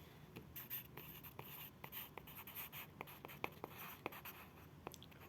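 Pen writing by hand on paper during a grade 8 maths lesson, a quiet stream of close scratchy strokes and taps in irregular rhythm with no talk over it.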